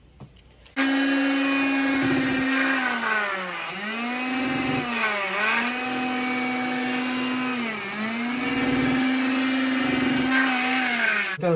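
Continuous loud power sanding of a coated kitchen countertop with sandpaper. A steady motor whine shifts slightly in pitch as the sander moves across the surface, running for about eleven seconds.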